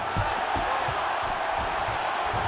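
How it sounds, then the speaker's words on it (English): Crowd roar in the EA Sports UFC 5 fighting game on Xbox Series X as the fighters get back to their feet, a dense steady swell of cheering holding at an even level throughout, with no clear individual voices. "huge pop from the crowd as the fighters get back up to their feet"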